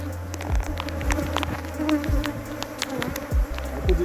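Honey bees buzz steadily at an open hive during a spring inspection of the honey super, with a dense, close swarm drone and occasional low thumps from frames being handled.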